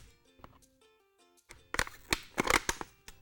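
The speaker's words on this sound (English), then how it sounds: "So I'm actually just going to make an incision with my scissors there." Scissors cutting into a plastic water bottle while making a concrete vase, a few sharp crunchy snips clustered in the second half after a quiet start.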